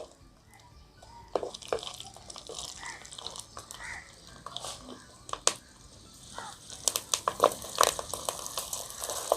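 Green chilies fry in hot oil with soft sizzling and crackling pops, fairly quiet, with scattered spits growing busier toward the end.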